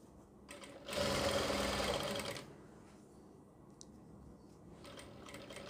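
A sewing machine stitching piping onto a front neck design runs in one steady whirring burst of about a second and a half, then stops, followed by quiet handling sounds.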